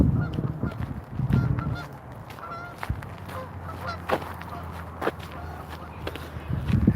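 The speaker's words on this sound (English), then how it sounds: "We got some geese." A flock of geese honks in scattered bursts at a riparian wildlife reserve in Gilbert, Arizona, some calls sharp and close, others fainter, over a low outdoor rumble with occasional footsteps.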